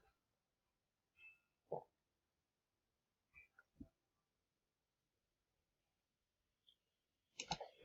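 Computer mouse clicks sound as a few sparse, faint, isolated taps separated by silence, ending with a small cluster of quick clicks.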